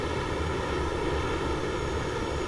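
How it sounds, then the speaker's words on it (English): A helicopter in the game Call of Duty Mobile flies past with a steady, broad engine and rotor roar. The rumble stays constant at moderate loudness with no speech. "Now this helicopter is heading towards that Jackal up north."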